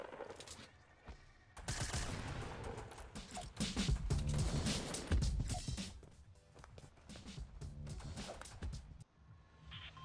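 Video game gunfire, bursts of shots and rapid automatic fire crackling loudly and close in clustered volleys, with scattered footsteps and movement between them.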